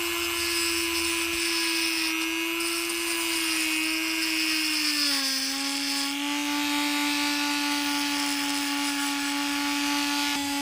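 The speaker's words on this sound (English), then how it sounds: "I switch to a grinding disc to start rounding off the edges." Angle grinder fitted with a grinding disc rounding off the edges of a workpiece, a steady high-pitched motor whine with a brief dip in pitch midway as the disc bears down, loud and continuous with no talk.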